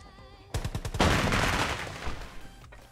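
Video game gunfire in the Filipino shooter Rules of Survival: a sharp burst of rapid, close, loud shots hits at the half-second mark and rolls into a sustained rattling volley that fades toward the end.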